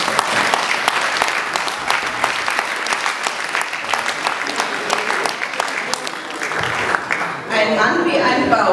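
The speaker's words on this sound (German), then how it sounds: "Zum 16. Mal dabei in diesem Haus bekommt er jetzt einen kräftigen Applaus." Loud, sustained applause from an audience fills the whole stretch, dense hand claps running steadily throughout with a brief swell near the end.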